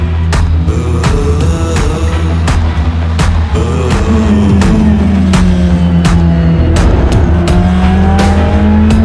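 A race car engine roars loudly and continuously during the 2019 Gulf 12 Hours race, its pitch climbing and shifting as it drives past, with no voices.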